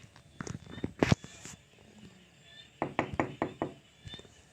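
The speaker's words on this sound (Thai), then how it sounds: "มือนเสียงเคาะประตูเลย" Knocking on a door at night: a cluster of sharp raps, then a quiet pause and a second quick series of knocks, fairly close, with faint voices around them.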